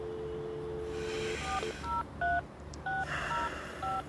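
Telephone keypad dialing tones in a video game, a series of short beeps in uneven rhythm over a steady background hum and game ambience, clear and fairly close.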